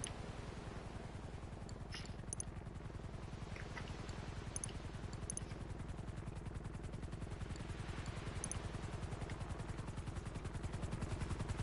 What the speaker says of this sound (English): A helicopter has been dispatched to your location.